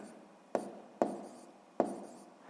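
Pen on paper jotting down a math answer, three short scratchy strokes spaced about half a second apart, quiet and close in a still room with no speech.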